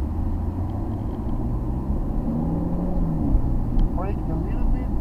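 A Ferrari California T engine rumbles steadily during a drive through Maranello, a sustained low drone with a slight swell, mixed with voices talking inside the car.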